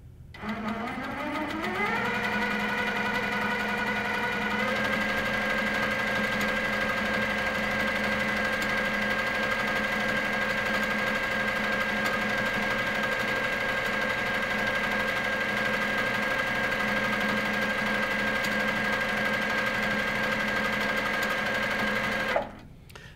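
A sewing machine doing free-motion stippling quilting spins up over a couple of seconds, then runs at a steady fast hum for about twenty seconds before stopping, close and loud with no talking.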